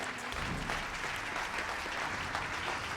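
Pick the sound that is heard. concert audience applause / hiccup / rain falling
concert audience applause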